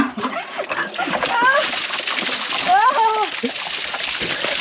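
Cold water splashing during an outdoor bath in the mountains, bursts of splatter and sloshing close by, with excited voices and shouts from children and adults over the water.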